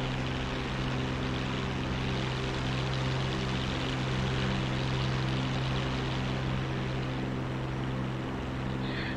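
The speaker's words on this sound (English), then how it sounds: "That engine sounds so good from down there." A propeller aircraft engine in the DCS combat flight simulator game drones steadily at full power. The tone is loud and even, with a deep throbbing hum and a broad rushing wash, and it stays unbroken throughout.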